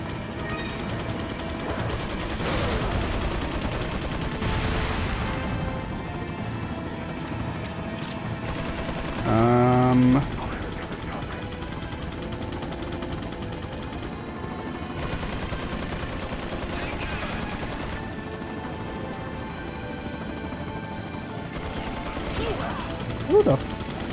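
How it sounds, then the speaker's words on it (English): Gunfire in Resident Evil 4 on PS2: repeated sharp shots and crashing impacts scattered through a long stretch of game ambience, with a brief tonal effect midway and people talking at times. "Who the fuck is shooting?"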